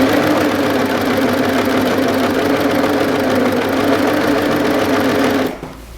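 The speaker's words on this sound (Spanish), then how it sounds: "Primero vamos a coser tal cual tenemos los tensores para ver cómo sale la costura" An overlock machine runs steadily for about five and a half seconds, stitching a test seam at its current thread tension settings, a loud continuous mechanical whir with fast rhythmic chatter, then stops abruptly near the end.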